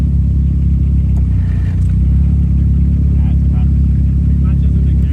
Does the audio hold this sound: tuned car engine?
yes